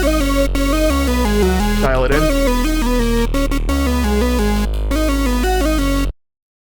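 Synth lead layered with a second oscillator tuned an octave up and spread in stereo, playing a bright, continuous melodic line loudly for about six seconds, with a short spoken phrase over it.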